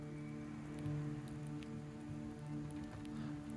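Rain falling in the survival game Project Castaway, a soft steady patter of drops on surfaces with faint tonal hum beneath, continuous and quiet for several seconds without speech.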